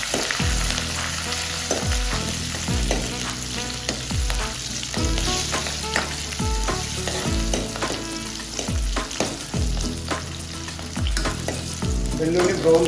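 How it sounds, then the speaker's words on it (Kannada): Curry leaves and garlic frying hard in a pan for Mangalorean chicken sukka, a loud continuous crackling sizzle with repeated rhythmic thuds of stirring throughout. "ಕರಿಬೇವು ಸೊಪ್ಪು, ಒಳ್ಳೆ ಫ್ರೈ ಆಗಬೇಕು."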